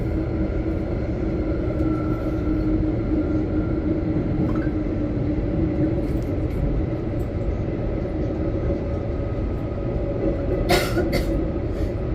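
A Transperth suburban train on the Joondalup line heading into Perth's underground city tunnel gives a steady, loud rumble of wheels and motors that holds throughout, with a brief higher rattle near the end.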